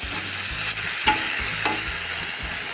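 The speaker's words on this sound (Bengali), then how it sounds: "এভাবে সবজিগুলোকে ভেজে মশলাটা কষিয়ে নেবে" Vegetables stir-fried with spice masala in a pan give a steady close sizzle, broken by two sharp clinks of a spoon against the pan and a soft rhythmic scraping underneath.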